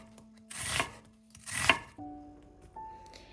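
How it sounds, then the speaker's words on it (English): Knife slicing half a red onion into strips on a board: two crisp, rasping cuts close by, followed by quieter tonal clinks. "Then slice half a red onion into strips and separate the layers."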